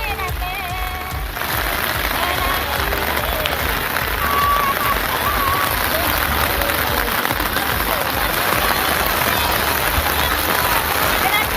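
Heavy rain falls steadily on paddy fields in Thevur while women transplant rice seedlings, producing a dense, continuous hiss of downpour at an even loudness from start to finish.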